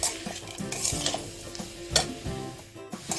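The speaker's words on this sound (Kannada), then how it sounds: "ಒಂದೆರಡರಿಂದ ಮೂರು ನಿಮಿಷ ಲೋ ಫ್ಲೇಮಲ್ಲಿ ಫ್ರೈ ಮಾಡ್ಕೊಳ್ಳಿ" Grated coconut and spices frying over a low flame for a chickpea bassaaru, with steady soft sizzling under repeated scraping stirs of a spoon against the pan, close and moderately loud, with no talking.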